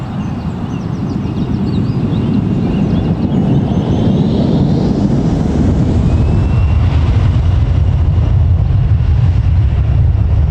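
An airliner takes off at Newcastle Airport with a loud, continuous engine roar and deep rumble, a faint rising whine partway through, and the low-end thunder building as it climbs away; no voices.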